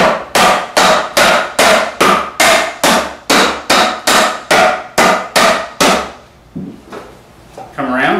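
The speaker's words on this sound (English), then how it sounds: "Then tap those together." A dovetailed wooden cabinet back on a Shaker espresso base being tapped into place, about a dozen loud, evenly spaced knocks close by, followed by quieter handling sounds.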